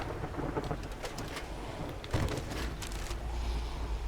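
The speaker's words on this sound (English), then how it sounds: "Not a fan of trying to go outside right now, though, in this storm." A thunderstorm with rain in the game 7 Days to Die, a steady broad hiss of rainfall with low rumbling thunder rolling underneath, one heavier rumble swelling midway, continuous and enveloping.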